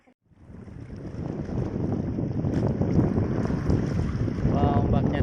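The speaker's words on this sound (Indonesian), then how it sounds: "Ombaknya datang." Sea waves rolling in on a white-sand beach at Ciletuh, a rising wash of surf that swells from near silence into a steady roar, with wind buffeting the microphone.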